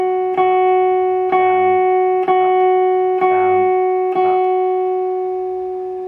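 An electric guitar picked with slow, even downstrokes, about five clear strikes roughly a second apart, each ringing on in sustained tones that slowly fade, close and loud.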